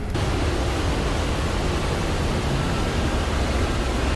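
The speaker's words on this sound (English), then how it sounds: "Witness the thundering sound of Urubamba River from the observatory deck." The Urubamba River roars continuously below a train's open observatory deck in Peru, a loud, dense, unbroken rush of water noise with no speech.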